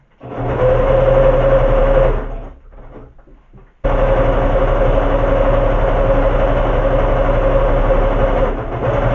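A sewing machine stitches along a folded fabric edge with a loud, steady whirring run. It stops for about two seconds, leaving a quieter hum, then starts again and runs evenly to the end.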